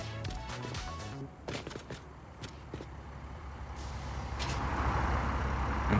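Heavy trucks in the factory-building video game Satisfactory rumble with a loud, steady engine drone, broken by sharp hissing air-brake bursts and clanks as one collides, the noise swelling toward the end.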